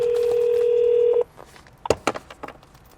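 A steady dial tone holds for about a second before cutting out, then a few sharp touch-tone beeps ring out as a call is placed through the CarPlay Bluetooth system of a 2013–2015 Lexus LX.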